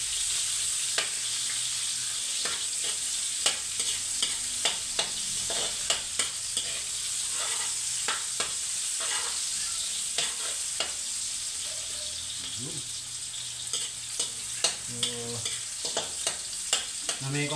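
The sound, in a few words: onions sautéing and being stirred in pan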